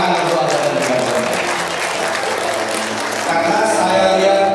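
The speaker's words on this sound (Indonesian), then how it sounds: "tepuk tangan untuk angkatan 34." Sustained applause from the class of 34 at an IPB silver reunion, a dense, steady wash of many hands clapping at full volume without a break.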